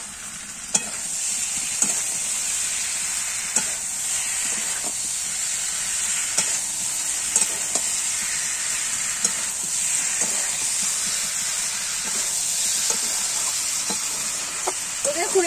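Slit green chillies frying in an oiled pan with vegetables: a constant bright sizzle and hiss, broken by regular scraping stirs of a spatula, close and moderately loud.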